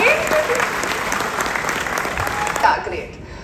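Audience applause at a college talk event, a dense sustained clapping that carries for about three seconds before cutting off abruptly into quiet.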